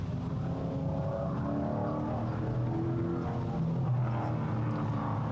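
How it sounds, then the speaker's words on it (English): Race cars circle the Alaska Speedway track in the background, a steady, continuous engine roar with a droning rumble that swells slightly toward the end. "we hear the race cars going around the track there at the Alaska Speedway"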